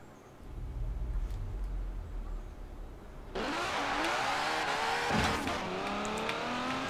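A fast car in the racing game Forza Horizon 4 accelerates on an Old Town road, its engine revving loudly with rising pitch sweeps and tire noise, growing louder partway through and staying steady and close.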